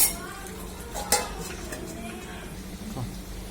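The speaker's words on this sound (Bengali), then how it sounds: "আবারও আমি একটু ঢাকনা দিয়ে ঢেকে রাখবো।" A metal lid clanks down onto a pot of cooking mutton curry, one sharp clink partway through over a low steady sizzle and faint utensil stirring.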